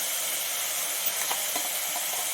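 Masala sizzling as it fries in oil, a steady bright hiss with a few soft pops and crackles, close and without talk.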